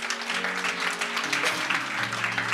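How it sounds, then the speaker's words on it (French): Audience at a women's church conference clapping for Jesus, a dense continuous round of applause from a crowd, steady and fairly close throughout. "You can clap for Jesus."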